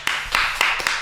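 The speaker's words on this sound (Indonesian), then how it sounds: "Kita beri tepuk tangan dulu ya." A quick burst of about four crisp handclaps from an audience honouring a SEA Games gold-medal boxer sounds close and loud over a faint background hiss.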